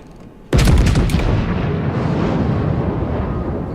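A World of Warships battleship, the Tier 9 Friedrich der Große, fires a salvo of HE shells: one sudden heavy boom with a quick ripple of reports, then a long rumbling decay.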